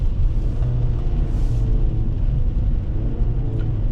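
2025 Kia K4 LX sedan with an IVT transmission downshifting, a steady, close low engine drone and cabin rumble with mild shifts in pitch and no distinct revving peaks.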